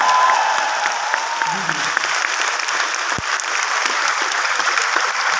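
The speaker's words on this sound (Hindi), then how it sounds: "जोरदार तालियां बजा सकते हैं।" An audience at a business meeting in a hall applauds with dense, steady clapping at a consistent level, with a brief faint voice early and a single sharp knock partway through.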